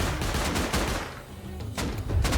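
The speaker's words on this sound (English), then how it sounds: "Never seen anyone try to take out an armoured double door with explosive ammo before" Explosive ammunition fired at an armoured double door in the survival game Rust: rapid bursts of loud, close gunfire with a short lull in the middle, then more shots.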